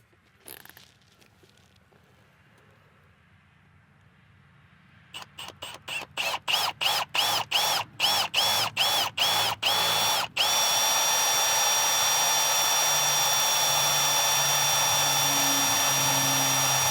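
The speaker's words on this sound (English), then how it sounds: "Luckily, it will be a lot easier to drill out now that we've got that pilot hole in there." A power drill bores out a broken bolt through a pilot hole, starting with short bursts of high whirring in quick succession, then running steadily at full speed, loud and close.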